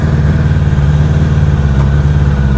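A Suzuki Bandit 600 motorcycle engine running on choke, a loud, close, steady low rumble with slight rev swells, alone without voices.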